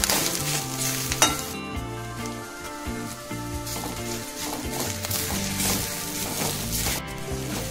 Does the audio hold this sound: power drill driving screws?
no